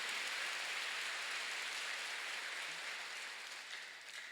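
A church congregation breaks into sustained applause during a sermon, a soft, even wash of many distant hands that holds steady and then fades slightly toward the end, with no voices over it.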